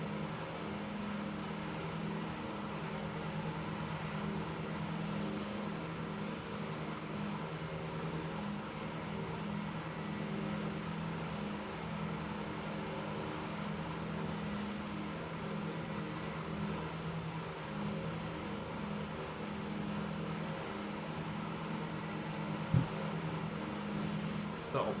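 Steady droning cabin noise inside a Breitling DC-3 vintage twin-engine aircraft in flight on a long leg toward Shemya Island, a constant low hum and broadband rumble with no pauses, a brief knock near the end.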